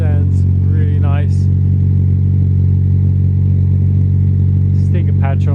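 Mazda MX5 fitted with a loud new aftermarket exhaust, running at a steady deep idle with a chest-thumping low drone, nearby and constant under short bursts of conversation.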